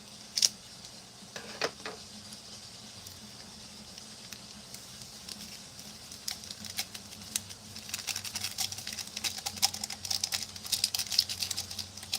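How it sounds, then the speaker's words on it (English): Scissors snip through a plastic beef jerky package, giving quiet, close crinkles and crisp cuts that grow busier toward the end. "I'm just going to cut the top of this off"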